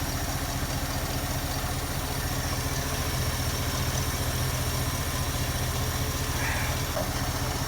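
A 1973 Ford Mustang with a 302 V8 and a two-barrel 2100 carburetor idles steadily up close, a constant low rumbling throb with an even pulse and no talk over it.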